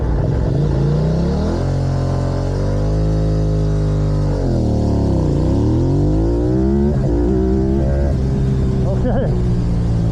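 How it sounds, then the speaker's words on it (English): A Yamaha R7 motorcycle revs close by for a race start, its engine climbing and dipping in pitch as the clutch is released, then rising again with another rev. "I brought the revs at the same time as releasing the clutch that time."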